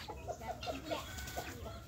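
Pet chickens clucking softly at a distance, a series of short repeated clucks spaced through the moment against a faint farmyard background.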